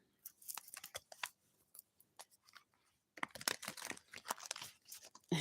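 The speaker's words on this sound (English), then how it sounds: "So let me go ahead and shuffle this pile while you all think about your question." Tarot cards being shuffled by hand, a close, quiet run of crisp riffling and papery slaps in uneven bursts, pausing before a denser flurry of shuffling near the end, with no one speaking.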